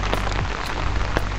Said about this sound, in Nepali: यस्तो पानी भयो कि फाइनली आजको दिनमा हामी दुईजनाले आफ्नो छाता ओढ्यौँ